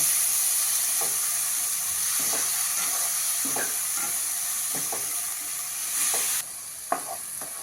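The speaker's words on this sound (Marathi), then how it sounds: "त्याच्यावरच टमॅटो पण घालूया आणि सगळं चांगलं परतून घेऊया" Tomatoes being sautéed in a pan for a capsicum gravy dish, a steady even hiss of frying with soft intermittent scrapes of a spoon stirring, close by, the sizzle dropping slightly near the end.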